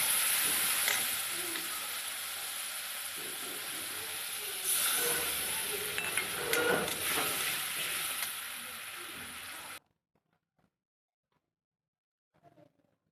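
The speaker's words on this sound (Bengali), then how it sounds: "এবার তেলের ওপরে ওটাকে ছেড়ে দিলাম" Cumin-coriander spice paste hitting hot oil for mattar paneer, a loud continuous sizzling hiss that swells midway, then cuts off abruptly into near silence with a faint knock near the end.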